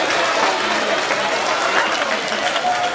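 School assembly audience applauding during a Black History Month program, a continuous dense patter of many hands clapping at moderate volume across the whole stretch.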